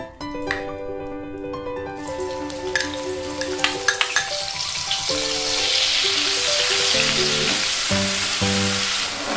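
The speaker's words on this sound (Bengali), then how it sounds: "পেঁয়াজ বাটাটা দিই।" Onion paste hits hot ghee already seasoned with whole spices for a fish korma, starting with a few sharp crackles and rising into a loud, steady sizzle, with background music running throughout and no talking.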